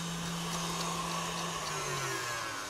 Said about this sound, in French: j'arrête le batteur pour éviter que les projections de gélatine se fassent sur les parois de la cuve